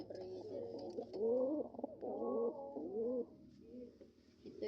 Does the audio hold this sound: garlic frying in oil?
no